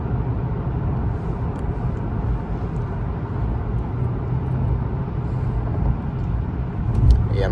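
A car cruising at the speed limit in the fast lane of a New York City road late at night gives off a steady, dense low road rumble from inside the cabin, unbroken for the whole stretch.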